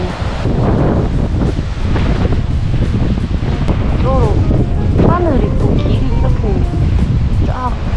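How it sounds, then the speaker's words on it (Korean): Wind buffets the microphone on the Jeju coastline while surf breaks nearby in a steady, loud wash, with people talking over it throughout. "저기 파도 치는 거 대박."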